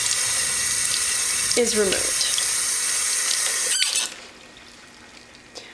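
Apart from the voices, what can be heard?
water running from a tap, rinsing makeup brushes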